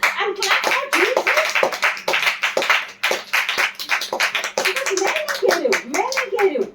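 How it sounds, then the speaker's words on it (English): A church congregation claps steadily and rhythmically in praise, with sharp hand claps running throughout under loud voices that speak or sing along. "First of all, praise and clap for Jesus."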